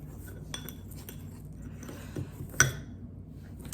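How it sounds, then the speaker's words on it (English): A utensil stirs egg into low-carb strawberry apple cake batter in a bowl, with soft scattered taps and light clinks against the bowl and one sharper clink near the end, quiet and close. "stir it around."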